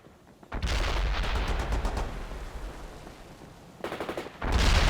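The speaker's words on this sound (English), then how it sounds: "Load that machine gun!" Heavy machine gun fire in World in Conflict, a loud sustained burst of rapid automatic shots that breaks off, then resumes in a second burst, with no voices.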